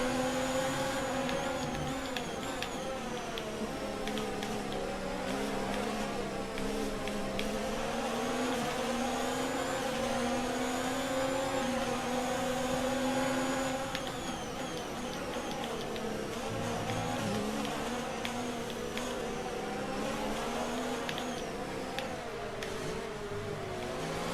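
F1 2019 cars revving at the race start at the French Grand Prix, a dense pack of high-pitched engines droning loudly and continuously, their pitch climbing and dipping as the cars pull away together.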